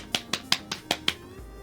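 Six quick, sharp hand claps in an uneven rhythm, close and crisp, with a faint background hum.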